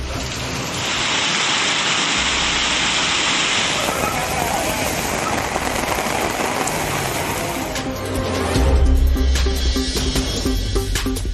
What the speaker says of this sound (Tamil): மாலை நேரத்தில் 1 மணி நேரத்திற்கு மேலாக பெய்த கனமழை